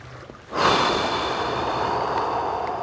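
A person holding a deep lower-body stretch during a slide-board warm-up takes a sharp inhale, then a long, steady, airy exhale that carries on to the end, close and fairly loud.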